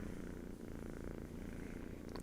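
A cat purrs steadily and softly up close, a low rhythmic rumble with no other sounds.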